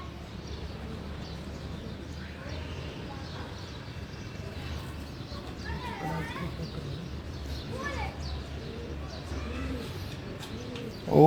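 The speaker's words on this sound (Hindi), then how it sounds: "एक ही सियालकोटी कबूतर है" A Sialkoti pigeon in a loft coos in soft, repeated low murmurs, with faint chirps and people talking in the background, ending in a sudden louder thump.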